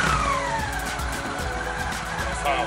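Exhaust of a black Honda Shadow VT 750 motorcycle, heard as a brief, fairly faint engine drone with a falling whine, as if the bike moves past.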